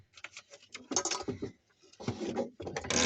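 A damaged truck door creaks and rattles as it is worked open and shut, a series of close, uneven knocks, scrapes and clunks with short pauses between them.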